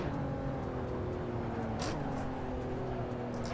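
Race car engine in the Assetto Corsa racing game, a steady high droning whine held at near-constant revs with a brief dip and rise, loud and continuous with no talking.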